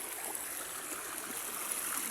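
River water flows steadily in a mountain setting, a continuous broadband rush and trickle close by, alone without any voices.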